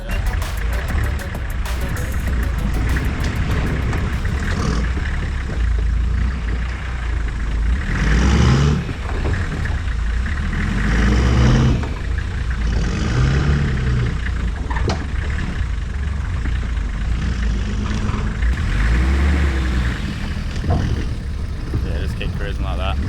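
A car drives the Sawpit Creek track, its engine a steady mid-pitched drone with swells of revving as it accelerates, while people talk over it throughout.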